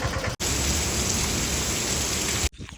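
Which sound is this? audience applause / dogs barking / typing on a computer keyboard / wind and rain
wind and rain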